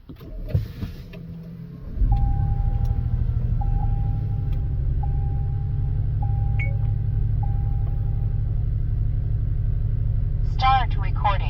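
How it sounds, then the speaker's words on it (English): A car engine cranks over and catches, then settles into a steady low idle that runs on without a break. Faint beeps repeat above it, and a voice cuts in near the end. "Now let's go ahead and start up the vehicle."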